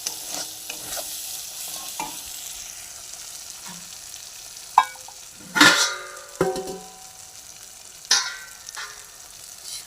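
Spice paste frying in oil with a bay leaf, a soft continuous sizzle broken by several sharp scraping stirs of a spoon against the pan, close and clear with no voices.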